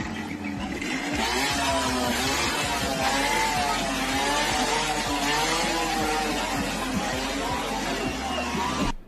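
Motorcycle engine running steadily and loudly throughout, with a constant droning hum and slight revving variation, recorded outdoors during a wedding photo shoot with the couple on the bike.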